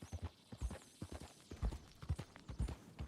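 A horse's hooves clip-clop in a steady walking rhythm in the video game Red Dead Redemption 2, soft and fairly close.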